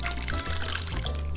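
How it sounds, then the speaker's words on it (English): Pollo asado marinade pours into a plastic bag in a short, steady liquid stream with a light trickling splash, close and alone over a low background hum. "So I'm gonna pour in half of my mixture in here."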